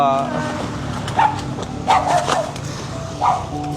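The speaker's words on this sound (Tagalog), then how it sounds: "Ay, may aso." A dog gives a few short barks at medium distance, heard over a steady outdoor rumble of wind and engine noise while people talk nearby.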